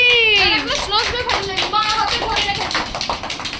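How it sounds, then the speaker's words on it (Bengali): Hand clapping at a family birthday gathering, mixed with voices singing and chattering close by; the claps are irregular and partly buried under the singing. "হাততালি"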